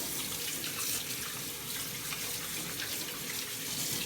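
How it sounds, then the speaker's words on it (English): A plastic juicer part is rinsed under a running tap: a steady, close splash and hiss of water streaming over it without pause, with no voices. "Rinse it out nice and good."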